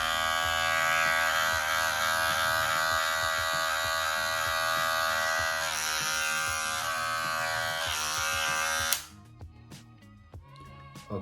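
An electric barbering hair clipper runs with a steady, bright buzzing hum for about nine seconds, then switches off, leaving a few faint clicks and handling noises.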